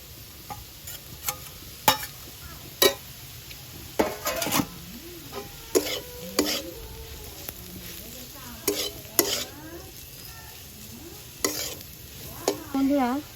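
Fried potatoes tipped into a pan with turmeric and stirred, giving repeated sharp spatula scrapes and clinks over a steady low sizzle, close and alone without talk.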